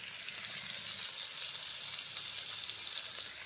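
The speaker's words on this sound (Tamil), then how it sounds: "இப்போ நல்லா கழுவி விட்டு தக்காளியை நல்லா வதங்கிட்டோம்" Onions and tomatoes with turmeric and salt frying in a pan for a bitter gourd gravy in village cooking, with a steady, even sizzle and crackle throughout, close and continuous.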